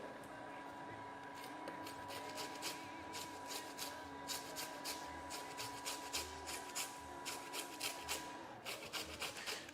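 An orange is zested on a grater in a rapid, close rasping rhythm of short scraping strokes, with a steady hum of kitchen equipment underneath.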